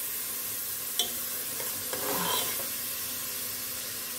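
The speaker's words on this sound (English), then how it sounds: "We're gonna saute it for about 5 minutes." Vegetables sautéing in butter in a pan for red beans and rice, giving a steady soft sizzle and hiss with a few light stirring scrapes, close and moderately quiet.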